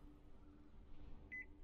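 A motion detector in Metro Exodus gives a short electronic beep near the end, a single bright tone over a steady low game hum, with no talk.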